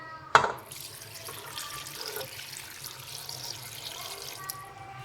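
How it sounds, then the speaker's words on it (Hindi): A glass of water pours into a karahi of mutton with a sharp splash at the start, followed by a soft, steady trickle and faint bubbling, quiet and close with no talking. "तो 1 गिलास पानी डाल के"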